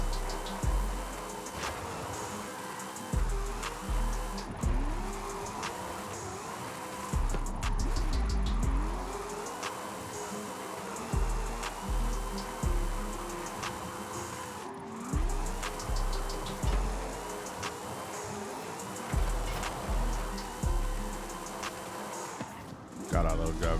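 A custom 1970 Hot Wheels Trans Am drift car in Forza Horizon 5, its engine revving and shifting in steady pulses with tire noise under continuous background music or effects, loud and close throughout.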